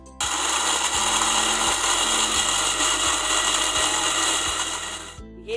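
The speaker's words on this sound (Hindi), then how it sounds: "अब ये सब चीज़ें ग्राइंड कर लेते हैं।" Electric spice grinder pulverizing black pepper, star anise and cumin: a loud, continuous whirring roar with rhythmic low thumps from the spinning blade, running steadily for about five seconds before cutting off.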